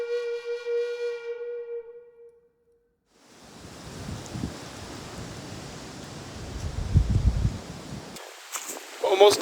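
Cold wind sweeps across a Catskills mountain hiking trail, a broad rushing hiss with low gusty buffeting against the microphone that builds toward the end, after a brief voice and a short hush at the start.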